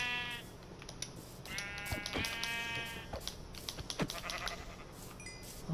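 Sheep in the Minecraft video game bleat several times in clear, repeated calls, some overlapping, fairly close with a quiet background.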